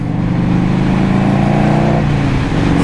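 A 1984 Harley Davidson FLT Tour Glide motorcycle accelerates on a highway on-ramp, its engine drone loud and close with pitch rising steadily, then dropping at a gear change and climbing again.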